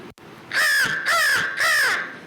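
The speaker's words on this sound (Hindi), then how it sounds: "कोयल का भाई कौवा" An early-morning crow gives three loud, harsh caws in even succession, close by and clear, with no other sound competing.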